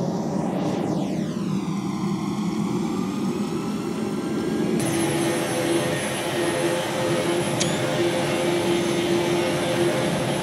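An AirAsia A321 jet taking off in Flight Simulator X, a loud continuous engine roar with a sweeping whine that rises and shifts as thrust builds, steady and close throughout.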